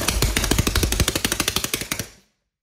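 A 3D printed 180cc engine with a carburetor suspected of starving it of fuel fires in rapid, loud, evenly spaced pulses for about two seconds, then dies suddenly into silence.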